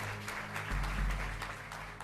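People applauding in a courtroom during a gymnastics abuse case hearing, a brief burst of scattered clapping, moderately faint, with a low thump and rumble partway through.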